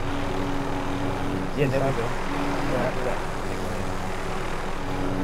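A helicopter in Call of Duty: Modern Warfare drones as a steady, loud rotor and engine roar, with a voice speaking briefly over it.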